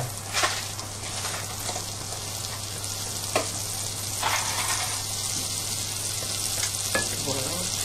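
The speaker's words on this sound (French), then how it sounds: "on va mettre dans une casserole notre beurre à fondre, et on va faire revenir nos échalotes" Steady frying sizzle of butter and shallots in a saucepan, with a few sharper crackles and stirring scrapes rising above the constant hiss.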